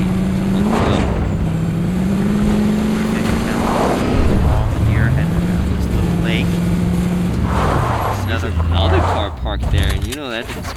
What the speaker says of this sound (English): Yes, they are gonna jump into the car